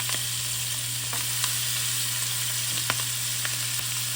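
Potatoes frying in vegetable oil in a pan make a steady, close sizzle with small pops and crackles, running alone without any talk.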